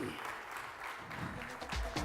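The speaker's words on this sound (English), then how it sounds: "So can I have a big round of applause for Mr. Deepak Daftari on stage, please?" A conference audience at CloudFest India 2018 applauds a speaker taking the stage, a faint, dense patter of clapping mixed with some talking.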